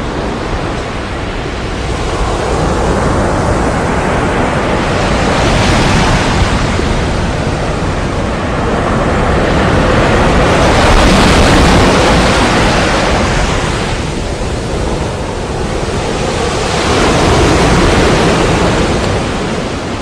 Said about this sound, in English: the live, natural white sounds from the breaking waves of the Normandy coast engulfed the